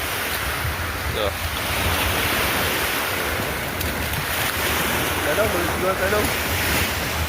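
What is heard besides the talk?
large ocean waves at sea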